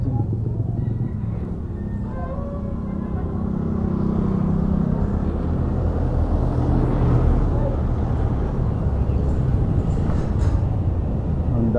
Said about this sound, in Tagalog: Daming sasakyan, dahil pasukan.